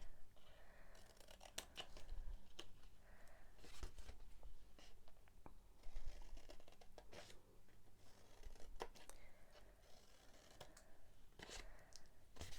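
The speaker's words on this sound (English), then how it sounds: "Cut nice and straight down here" Scissors cutting paper while making a gift box, a series of close snips and crisp paper rustles spread unevenly, some sharp clicks standing out, with no talking.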